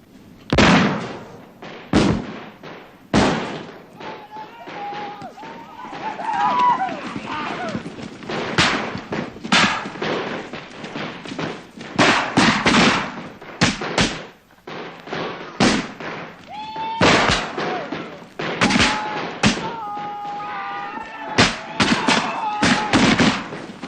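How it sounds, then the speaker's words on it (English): Civil War reenactors fire muskets and pistols loaded with blank cartridges during a staged battle of Sharpsburg, September 1862, sending out many sharp, loud bangs in irregular volleys over crowd noise and voices. "Today, their blank cartridges just go off with a big bang."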